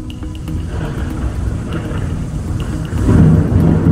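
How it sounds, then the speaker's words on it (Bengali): A storm at a village house at night, with low rolling thunder and steady rain hissing throughout, the rumble swelling louder in the final second, with no voices. "আরেকটা ঝড়ের ঝাপটা এসে দরজা জানলার উপর আছড়ে পড়ল"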